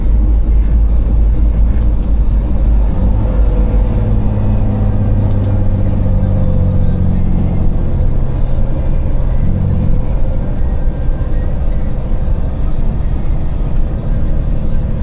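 A car engine pulls steadily uphill in a low gear, a loud continuous drone close to the microphone with a slowly shifting tone.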